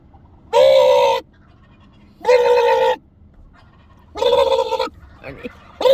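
Wild turkeys gobble loudly and close by in three long, rattling bursts separated by short pauses, with faint background noise between calls.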